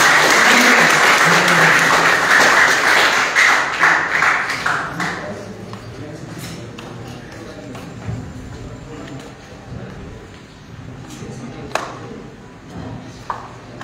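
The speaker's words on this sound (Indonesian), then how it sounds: "mari kita berikan tepuk tangan buat" An audience at a gathering in a detention centre breaks into loud, dense clapping that gradually thins and fades to scattered claps.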